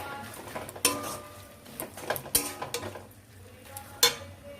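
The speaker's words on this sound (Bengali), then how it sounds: "চিনিটা মিশিয়ে নেব।" Sugar being stirred into beto shak greens in a pot: a soft frying sizzle underlies sharp metallic clinks and scrapes of a spoon against the pot, arriving in irregular bursts.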